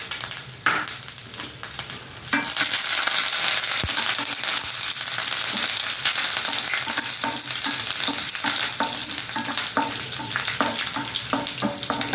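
Spices and soaked moong dal crackle and fry in hot oil, a loud continuous sizzle with scraping stir strokes and popping spatters, no talking.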